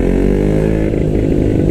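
A KTM Duke 125 motorcycle with a Scorpion aftermarket exhaust runs close and loud, its single-cylinder engine giving a rough, rapid, pulsing drone that stays steady, with no speech.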